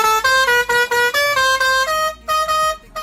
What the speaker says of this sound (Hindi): अगर आपने ये हॉर्न बजाया तो लोग बोलेंगे once more sir once more